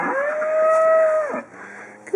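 A single long, steady cow moo, close and loud, holding for over a second before cutting off, followed by quieter background noise.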